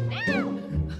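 A pet cat gives one clear, rising-then-falling meow, close and fairly loud, followed by a low household hum.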